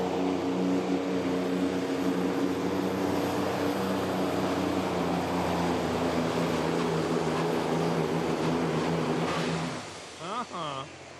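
A turbocharged pulling tractor, four turbos on a rear-set engine, roars steadily and loudly through a truck and tractor pull run, then cuts off near the end as a voice speaks briefly.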